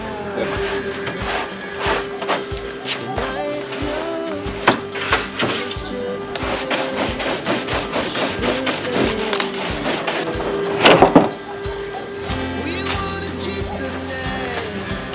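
A Rotax 912 four-cylinder horizontally opposed 1200 cc engine on a two-seat Flight Design light aircraft cranks and runs with a steady rough drone and rattling clicks, with a louder burst near the end.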